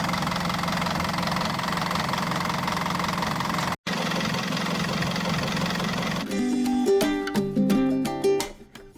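A yacht engine runs with a steady, loud, knocking drone, cutting out briefly once, then giving way to clattering, uneven mechanical sounds near the end.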